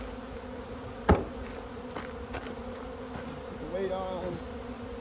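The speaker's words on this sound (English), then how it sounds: "these bees will fly back into the hive." Honeybees buzz steadily around a hive, a low droning hum filling the background, with a sharp knock near the start and a brief louder buzz of a nearby bee toward the end; someone speaks briefly.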